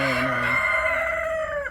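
A Rhode Island Red hen on an egg farm gives a single drawn-out, harmonic clucking call lasting under two seconds, close and fairly loud, with a slight falling pitch at the end.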